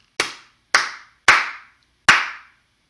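Four crisp, close hand claps ring out alone in an uneven rhythm during an online music lesson, the last clap arriving after a slightly longer gap.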